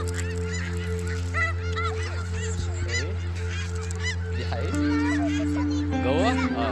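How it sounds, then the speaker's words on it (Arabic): Loud, constant honking from a large flock of ducks fills the whole stretch, dense overlapping calls close by, with a person talking now and then over the birds. "انت طبعا مش متخيلين كمية البط قد ايه"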